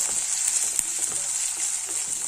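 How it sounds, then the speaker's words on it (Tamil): Ginger garlic paste sautés in a pan with onions for a cowpea rice dish, a steady bright sizzle overlaid by soft scraping stirs and small clinks, close and uninterrupted. "இஞ்சி பூண்டு விழுதை வந்து இதில் சேர்த்துடலாம் பச்சை வாசனை போகிற அளவுக்கு வந்து நல்லா வதக்கி விட்டுருந்தேன்"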